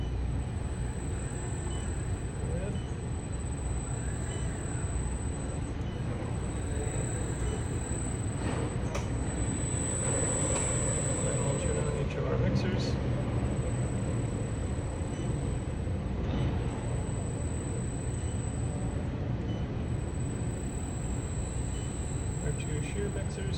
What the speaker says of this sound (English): We'll turn on each of our pumps.